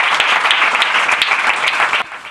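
A congregation at a Hindi-language church sermon claps together for a scripture verse, loud and continuous with a few sharper claps standing out, before the applause drops off abruptly near the end.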